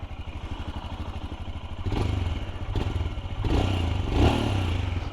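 A Royal Enfield Scram 411 single-cylinder motorcycle thumps at a steady idle close by, its low rapid pulses rising in a few brief blips of throttle.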